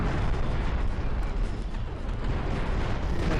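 Battleship artillery fire in the Empire Earth II strategy game rolls on as a dense, continuous rumble of overlapping distant booms and blasts, loud and steady with no pauses.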